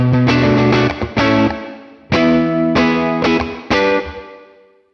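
Electric guitar chords played through the Morgan Amps Suite reverb with its low-pass filter set to maximum, giving a bright tail; several loud strummed hits ring out and decay smoothly, with no talking.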